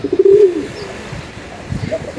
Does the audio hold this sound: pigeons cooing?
yes